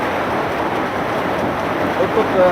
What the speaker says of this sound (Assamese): ৰাজ্যৰ প্ৰচণ্ড বতাহ বৰষুণ ধুমুহা দেখিবলৈ পোৱা গৈছে